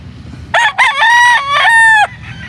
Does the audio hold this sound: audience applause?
no